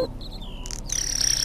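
Mockingbird call from a songbird in The Lost Crown video game: several high, clear chirps and short whistled phrases over a steady low game-music hum, followed by a brighter, louder sustained warbling trill.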